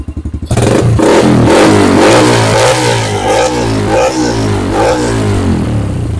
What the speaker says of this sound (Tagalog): So ayan, naka-open pipe na siya. So pakinggan nyo guys.